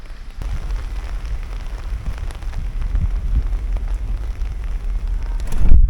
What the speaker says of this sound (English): the rain has got heavier now